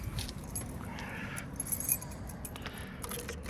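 Car keys jangle softly near a Chevrolet Caprice Classic, a steady low rattle with small metallic chinks and a low hum underneath.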